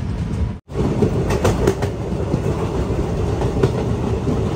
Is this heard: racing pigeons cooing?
no